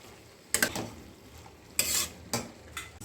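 Banana flower is stirred in a pan, giving several distinct bursts of scraping and clattering from a spatula against the metal, separated by quieter gaps over a soft background sizzle.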